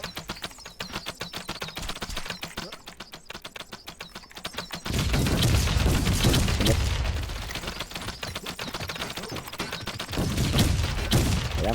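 Gunfire in the video game HyperZ: quick, rattling bursts of shots that swell into a louder, dense, continuous barrage, with no talking.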